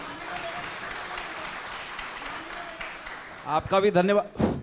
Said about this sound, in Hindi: आपका भी धन्यवाद और ताली बजाने वालों का भी धन्यवाद